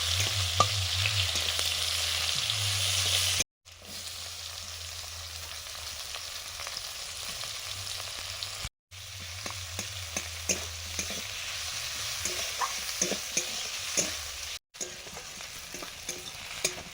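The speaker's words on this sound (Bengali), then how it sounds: "পেঁয়াজ কিছুটা ভাজা হয়ে গেছে" Chopped onions fry with dry red chilli and whole cumin in a pan for a fish curry, a steady sizzle with occasional clicks and scrapes of stirring, broken by brief silent cuts, with a low hum at the start and no talking.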